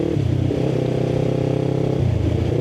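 A Yamaha R3 V2 motorcycle engine runs steadily up close, its rasping drone dropping briefly in pitch as it snaps through clutchless upshifts, with no talking over it.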